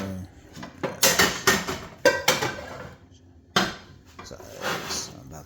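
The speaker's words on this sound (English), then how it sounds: "So I preheated a Dutch oven to 450 degrees. I'm gonna take it out here." A Dutch oven preheated to 450 degrees comes out of a kitchen oven with several close metallic clanks and scrapes of heavy cookware and rack, spaced unevenly, while someone talks alongside.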